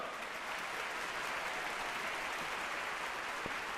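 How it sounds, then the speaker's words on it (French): An audience applauds the fashion houses at an international couture contest, producing a dense, uniform wash of clapping that stays constant and fairly faint throughout, with one brief knock near the end. "Applaudissez-les bien fort."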